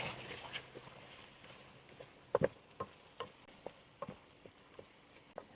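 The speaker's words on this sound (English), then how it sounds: "We'll mix this all up." Tomato and garlic pasta sauce stirred in a pan, a quiet run of soft scraping clicks and light knocks in an uneven rhythm over a faint sizzle, with no talking.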